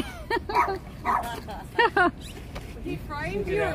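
A dog outside a Washington, DC jail during an evening vigil gives a few sharp, close barks, including a quick double bark, while people chat nearby.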